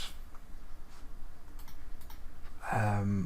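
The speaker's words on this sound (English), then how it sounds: "And then type out real secret.txt." Quick, light clicks of typing on a computer keyboard come in a short irregular burst, then stop as a voice starts speaking.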